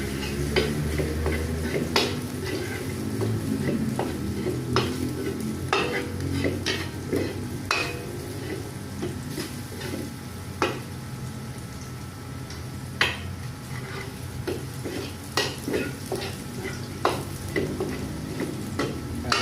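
Beef salpicao browns in a pan with a steady sizzle and frying crackle, broken by repeated sharp scrapes and taps as it is stirred, close and fairly loud, with no voices.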